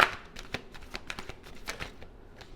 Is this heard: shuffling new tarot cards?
yes